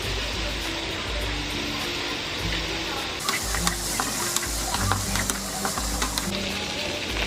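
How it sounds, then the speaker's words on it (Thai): Minced pork being stir-fried with a little fried garlic in a pan for a shrimp-shell broth rice soup, a steady close sizzle broken by scraping and stirring clinks from the spatula. "ผัดกระเทียมเจียวลงด้วยค่ะใส่นิดนึง"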